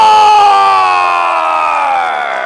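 A loud arena crowd cheers and roars continuously for hometown wrestler EJ Sparks as he makes his entrance at an Arizona State Championship wrestling event, the sustained cheering slowly fading a little toward the end.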